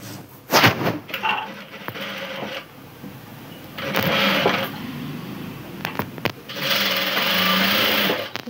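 A sewing machine stitches a long frock sleeve in three bursts of steady, whirring rapid needle action, separated by short pauses with handling clicks.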